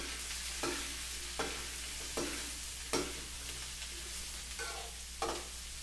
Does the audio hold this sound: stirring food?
yes